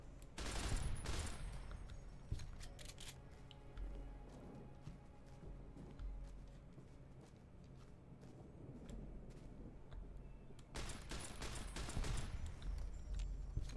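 Gunfire from a weapon in Fallout New Vegas, with loud bursts of rapid shots at the start and again near the end, and quieter crackling shots and game ambience between them.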